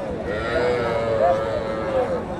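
Cattle at a rural cow market (gorur hat) where cows and calves are sold, with a drawn-out nearby moo or bleat rising over a crowded murmur of background voices.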